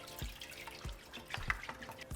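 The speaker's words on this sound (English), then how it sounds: "We're going to begin by pouring 1 gallon of whole milk into our pot." A gallon of whole milk pours into a pot, heard as soft, close splashes and drips in an uneven rhythm, faint and without talk.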